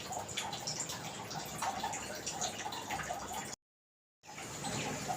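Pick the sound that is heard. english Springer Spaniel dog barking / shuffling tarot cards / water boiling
water boiling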